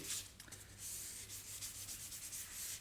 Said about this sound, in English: we're going to use the sandpaper that comes in the kit, and we're going to very, very lightly sand over the areas